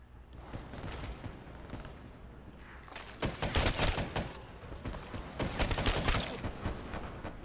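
Dense, sustained gunfire in Black Ops 3, a constant rattle of overlapping shots that swells into louder, heavier bursts in the second half, with no talk over it.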